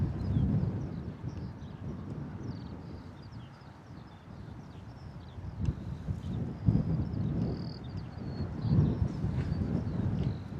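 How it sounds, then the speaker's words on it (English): Strong wind gusts buffet a microphone outdoors at Bristol Airport, making a steady low rumble that swells into heavier thumps now and then. "Those wind gusts coming through are definitely pushing us."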